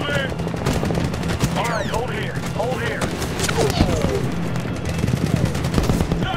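Continuous automatic gunfire rattles in a Medal of Honor 2010 firefight, dense rapid bursts with whizzing ricochets and shouted voices over the steady barrage.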